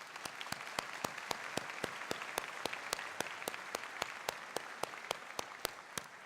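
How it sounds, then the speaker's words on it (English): Graduation ceremony audience applauding at a spring commencement, a steady wash of many hands with sharp individual claps standing out regularly throughout, moderately distant and fairly quiet. "I appreciate your applause"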